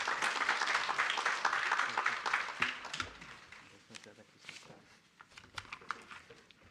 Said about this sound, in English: Ladies and gentlemen, big round of applause and welcome him to address the gathering